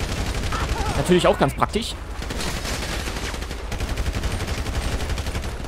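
Rapid gunfire in GTA V as a character shoots from the hip without aiming, a dense burst of shots with someone speaking German over it, followed by steady game ambience.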